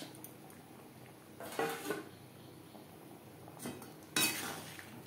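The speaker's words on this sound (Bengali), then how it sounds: "গ্রেভির সাথে মাছ বেশ ভালো করে মিক্সড করে দেব।" Fish being added to simmering gravy in a pan and stirred, with metal spoon scraping and clinking against the cookware in a few short bursts over a low background hiss.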